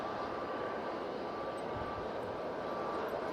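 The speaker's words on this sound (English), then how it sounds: "Really good landing considering the" TUI airliner landing in strong wind, a steady distant roar of jet engines and rushing air that holds at an even level throughout.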